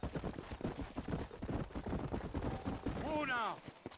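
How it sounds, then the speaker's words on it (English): Hoofbeats of a horse ridden at an easy pace in the Western video game Red Dead Redemption, a steady patter running through the scene under game talk, with a whinny-like call near the end. "It's difficult to ride a horse."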